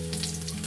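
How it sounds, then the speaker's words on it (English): Pork meat searing in hot pork fat for carnitas crackles with a steady, close sizzle that runs unbroken through the short moment, with a constant hiss and bright spitting bursts. "I'm gonna sear that pork meat to get it nice and crispy on all sides"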